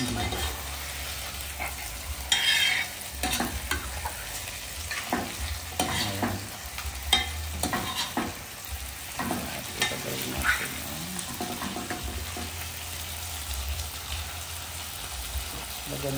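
Stirring bulalo beef soup ingredients with pepper in a hot pot, with repeated scraping and clinking strokes over a steady sizzle, close and moderately loud.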